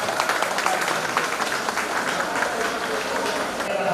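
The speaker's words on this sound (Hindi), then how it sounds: "आपसे तालियों की भी अपेक्षा है।" An audience at a Mulund Ratna and Shravan Vandana event applauds, a steady wash of many hands clapping at moderate volume with some voices mixed in.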